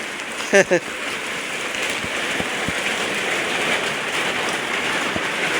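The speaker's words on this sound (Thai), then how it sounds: "น้ำฝนตก" Steady rain falls across the whole stretch, a dense, even hiss with a few scattered drop taps, while a brief voice cuts in near the start.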